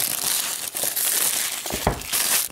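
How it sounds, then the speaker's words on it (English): Plastic wrap is peeled off an iPad mini box, making continuous close crinkling and crackling with a few sharper tearing snaps and no voices. "Peel the plastic here."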